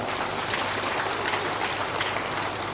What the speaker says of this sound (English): let's give a round of applause to your local MLA